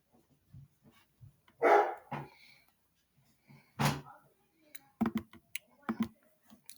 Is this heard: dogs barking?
yes